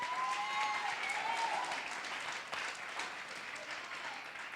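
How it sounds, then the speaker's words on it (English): Applause for the children's church rises from a church congregation, a sustained wash of many hands clapping that fades slightly over several seconds, with a faint voice briefly audible underneath. "Clap for the children's church."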